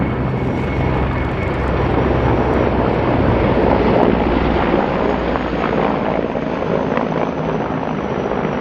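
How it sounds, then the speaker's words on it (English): Hind attack helicopters fly past during an operational-tactical military exercise, a loud, continuous rotor and engine roar that fills the whole stretch with a wind-blown rumble. "Looks like our hind vehicles came around for another pass"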